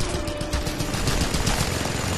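A mounted machine gun in the Just Cause 2 video game fires in a dense, continuous burst, loud and close throughout, with no talking.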